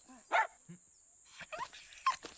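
A dog in an animated French episode gives a few short, sharp barks and yips in separated bursts, near and fairly clear against a quiet background, with no talking over them.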